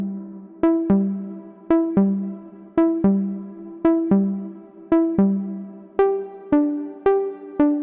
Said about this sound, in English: This is sequencing the FM operator.